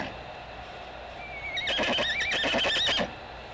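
A horse gives a single loud whinny of about a second and a half over a low background hum, beside a model railway layout with Amish horse-drawn buggies on back roads.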